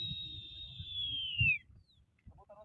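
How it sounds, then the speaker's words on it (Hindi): Pigeons calling in low, hooting coos beneath a long, slowly falling whistle that fades out after about a second and a half, followed by faint flutters and quieter calls. "कबूतर माशाल्लाह से उड़ रहे हैं"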